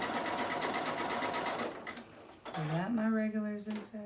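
A Continental sewing machine runs a zigzag stitch with a fast, steady mechanical chatter, then stops as a voice talks briefly over the quieter pause.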